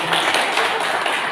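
Short burst of audience applause at a cooperative branch inauguration ceremony, dense and fairly loud clapping filling the whole moment.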